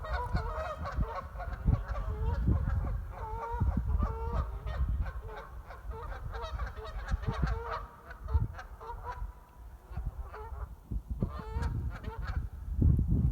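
Geese honk out on the water, a loose chorus of repeated nasal calls at moderate distance that keeps going throughout, with no speech over it.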